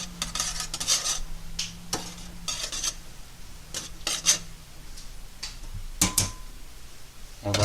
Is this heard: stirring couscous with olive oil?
yes